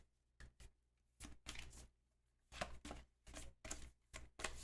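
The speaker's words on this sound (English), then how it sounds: "I'm shuffling up the event cards." A deck of board-game event cards is shuffled by hand: a run of crisp, papery riffling bursts separated by short pauses, close by and without speech.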